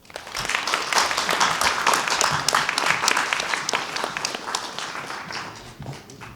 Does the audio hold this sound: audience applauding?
yes